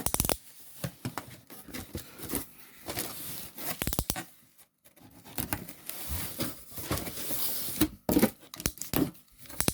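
A parcel being opened by hand, with bursts of tearing, crinkling and rustling packaging at close range, broken by short pauses.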